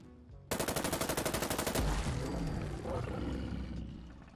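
Rapid automatic bursts from a SIG MCX rifle in Fallout 4, a fast steady rattle of shots that gives way to a loud, rumbling roar and heavy, dense noise, with no talking.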